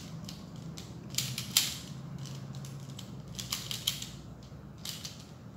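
A pyramid-shaped Rubik's puzzle is twisted quickly by hand, producing soft plastic clicks and scratchy turning rattles in irregular bursts, close and quiet.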